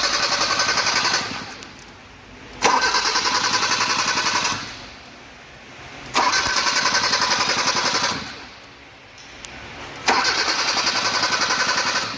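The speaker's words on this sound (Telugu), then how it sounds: "ఇప్పుడు వెహికల్ స్టార్ట్ చేయబోతాను" A Hyundai i20 with an automatic transmission, previously failing to crank, makes three loud, sustained start-up cranking bursts separated by short quiet gaps. The sound is close, with no talking.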